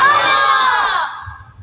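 At a religious gathering, a large crowd roars back in answer to a takbir chant, a loud unified shout that holds for about a second and then fades away.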